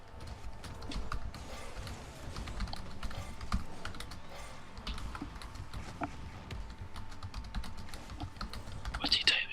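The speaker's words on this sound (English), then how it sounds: "What's he typing?" Typing on a computer keyboard carries on throughout as a close, continuous patter of key clicks, with bursts of faster tapping and a brief higher noise at the very end.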